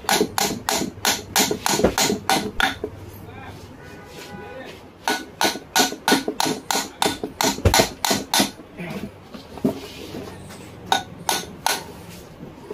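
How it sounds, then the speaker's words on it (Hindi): Repeated metal hammer blows striking a submersible mud pump motor during teardown, loud sharp knocks in uneven bursts with short pauses, with clanks of metal parts in between. "ये देखिए हम इसको हथौड़ी से"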